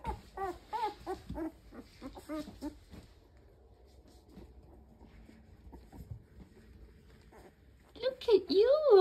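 Puppies whimper and whine with high, wavering cries, a burst early on and another louder one at the end, with quieter shuffling between.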